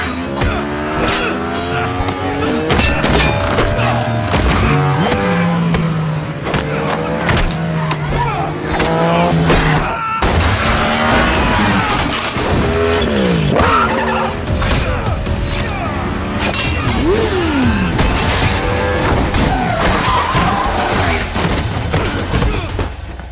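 Motorcycle chase with skidding in a 2019 action film, a dense roaring mix of engines revving and whining, tire squeals and crashes amid a loud music score, continuous and intense throughout.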